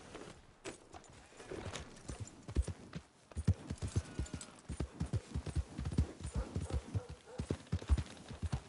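Horse hooves in Red Dead Redemption 2 start slowly, then settle into a fast, steady rhythmic clip-clop of galloping. The hoofbeats are loud and close and grow denser as the horse picks up speed. There is no talking over them.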